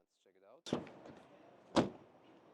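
A 2025 Mazda CX-80 rear door shuts with a solid thud, followed about a second later by a second, louder slam, with faint handle clicks before.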